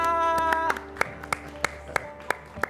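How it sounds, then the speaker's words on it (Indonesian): An audience applauds in a sharp, evenly spaced series of claps that rise out of a lingering musical tone and background murmur. "Tepuk tangan dong buat Mika."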